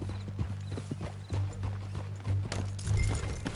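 Horse hooves clip-clop in a steady rhythmic trot in a video game, over a low constant drone, with a few louder thuds along the way.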